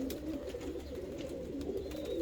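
Dutch white-tailed show pigeons give soft, repeated low coos in a quiet loft-like setting, the gentle murmuring continuing throughout.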